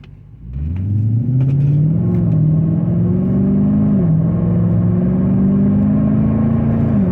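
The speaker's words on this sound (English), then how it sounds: "you might hear the exhaust growling in the back a little bit" A Nissan/Infiniti car with a modified exhaust revs up and accelerates from a stop, its exhaust growling low and steady, rising in pitch then holding a deep rumble close by.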